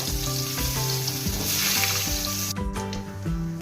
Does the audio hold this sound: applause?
no